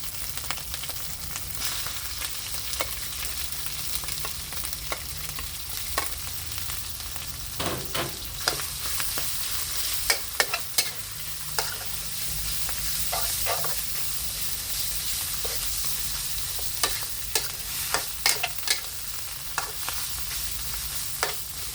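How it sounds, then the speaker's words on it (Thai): Pork stir-fries with curry paste in a pan, a continuous bright sizzle broken by frequent scraping clicks of a spatula stirring, close and steady with no talk. "พริกแกงหอมเอาหมูลงผัดค่ะ"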